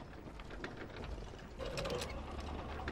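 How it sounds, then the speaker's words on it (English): A grinder machine running in the video game Hydroneer, a continuous mechanical ratcheting whir with rhythmic clicks that grows louder and busier partway through. "This is the grinder. This should be working."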